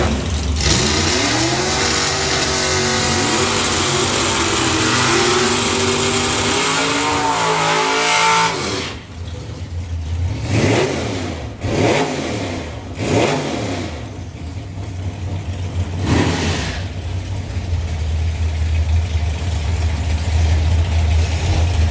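Side-by-side nine-second doorslammer drag cars rev hard at the line, then launch with a loud roar and rapid upshifts, fading into a steady distant engine drone; no talk.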